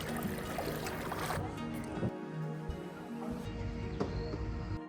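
A boat moving through water inside caves, with water sloshing and trickling against the hull at close range under a low, steady rumble and occasional splashes.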